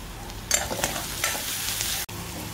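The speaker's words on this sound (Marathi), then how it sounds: "कांदा थोडा फ्राय होतोय तेव्हा त्याच्यामध्ये मी थोडंसं मीठ घालणार आहे" Onion frying with salt and turmeric for paneer bhurji, a loud close sizzle with a few quick stirring scrapes at the start and a brief dropout near the end.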